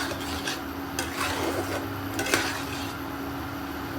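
A spoon slowly stirs a salted beetroot dish in a pan, making a continuous soft scraping and rubbing close by over a faint low hum, with no voices.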